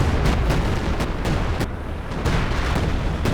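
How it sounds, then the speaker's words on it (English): Assault artillery barrage in the WWII real-time strategy game Company of Heroes 2 during a 4v4 battle, a loud continuous roll of booming impacts and explosions with sharp bursts every half second or so. "Assault artillery again."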